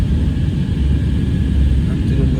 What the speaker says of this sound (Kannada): ಫ್ಲೈಟ್ ಫುಲ್ ಶೇಕುಂಡು ಗಡ ಗಡ ಗಡ ಅಂದು